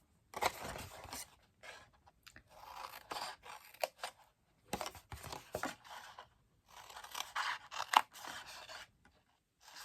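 Small scissors snipping paper in short bursts of quick crisp cuts, separated by brief pauses, close and fairly quiet.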